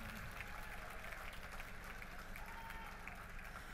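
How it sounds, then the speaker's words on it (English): An audience at a youth awards event gives a big round of applause for young people, steady dense clapping heard at a distance and fairly faint throughout, with no voices over it. "may we give our young people a big round of applause for keeping us on our toes."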